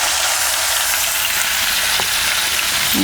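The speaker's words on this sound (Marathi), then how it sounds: "हे बघा आता तेल गरम झालेले आहे आता आपण ह्यामध्ये घालूया जिरं" Cumin seeds sizzle and fry in hot oil in a home kitchen, giving a continuous close, bright crackling hiss with no speech.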